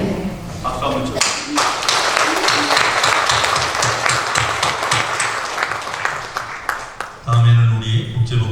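Applause breaks out at a Korean church ordination service right after a prayer ends, a burst of many hands clapping that builds quickly, holds, then fades, with voices heard near the start and end.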